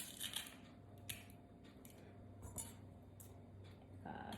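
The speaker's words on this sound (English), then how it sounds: "I'm gonna press that in here." A garlic press squeezing garlic cloves in a home kitchen: faint metallic clicks and a few sharp clinks with soft crushing in between, quiet and close, with no talking.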